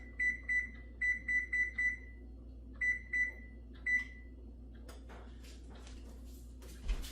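An oven control panel beeps as it is set to preheat to 410 degrees, giving a run of short, clear electronic beeps in quick clusters, followed by a few more spaced beeps over a low kitchen hum.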